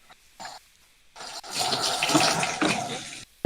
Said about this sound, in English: If you hear water, this is the bathtub.